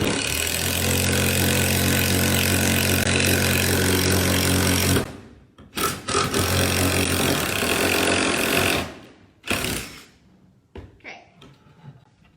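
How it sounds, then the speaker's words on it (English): A power drill fitted with a paddle bit bores a hole through wood, a loud, steady motor whine with grinding for about five seconds, then short bursts and a final stretch of drilling before it stops. "your paddle bit will begin to carve out a perfectly round,"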